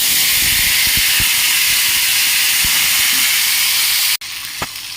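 Chickpea ghugni peas, already boiled with salt, fry in a kadai with turmeric, giving a steady loud hiss and sizzle with a few clinks of stirring, then the sound drops abruptly to a quieter sizzle near the end.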